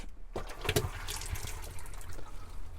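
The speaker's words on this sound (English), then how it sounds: "Get the water running through." Water runs through the hot tap of a 2010 Challenger 570 caravan, a steady close trickle and splash that continues for the whole stretch, with no voices.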